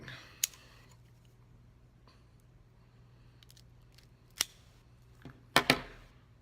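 A Laranja Reserva cigar is cut in a quiet room. A few sharp, isolated snips and clicks are heard up close, with the loudest double snap near the end and near silence between them.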